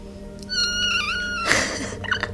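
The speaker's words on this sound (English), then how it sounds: "Yeah, we got 2 new cats" Several drawn-out meows from a cat, one of two newly adopted cats with a kitten in the house, come close and clear indoors, ending with a short louder burst of rustling.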